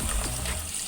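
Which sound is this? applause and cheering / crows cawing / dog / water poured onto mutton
water poured onto mutton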